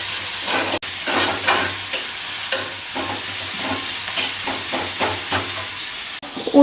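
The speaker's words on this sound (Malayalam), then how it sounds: "ഉള്ളി നന്നായിട്ട് വഴന്നു." Onions sautéing in a pan for a simple onion curry, with a continuous close sizzle broken by frequent stirring scrapes and occasional utensil taps.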